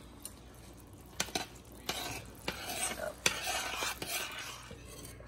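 Alfredo sauce with Parmesan cheese being stirred in a pan, soft sizzling with intermittent scrapes and clinks of a utensil against the pan, close up and with no voices.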